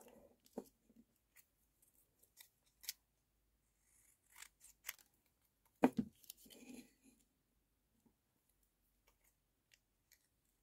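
Scissors snip a few times close by, cutting decorations on a bonsai tree, with sparse crisp clicks and brief cuts separated by pauses, fairly quiet overall.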